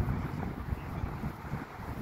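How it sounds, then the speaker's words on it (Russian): Wind buffets the microphone in a continuous low rumble with gusty fluctuations, no voices, just a steady roaring blow, on a street in a new district of Riga. "Здесь такой ветер,"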